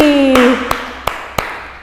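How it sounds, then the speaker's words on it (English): Four sharp, evenly spaced hand claps from a children's class ring out after a fading sung melody, each clap a crisp, close, isolated smack. "बजाओ ताली"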